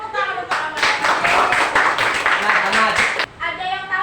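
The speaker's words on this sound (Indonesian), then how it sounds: "Kita beri tepuk tangan untuk Ahmad." Classroom of students clapping for a classmate, a burst of dense quick hand claps starting after a voice and stopping abruptly, with talk before and after.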